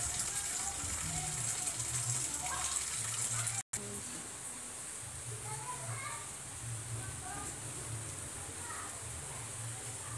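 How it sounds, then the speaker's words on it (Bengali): Sudden rain falling in a cold, biting winter wind at a market in Bangladesh, a constant close hiss and patter of water with low gusty rumble, while people talk over it. "দেখো বন্ধুরা বৃষ্টি পড়তেছে"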